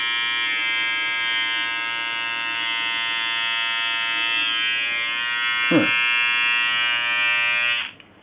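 A Remington electric clipper shaves hair from a person's calf, giving a loud, steady, even buzz. Its tone dips briefly midway and then cuts off at the end.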